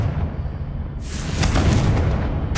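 Confringo blasting spell exploding in the Hogwarts Legacy video game, a loud, full boom that swells out of a low rumble and lingers as a broad crackling roar for over a second.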